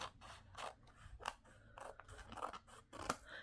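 Scissors trim the edge of a paper postcard with a series of quiet, close, crisp snips in an uneven rhythm, without talk.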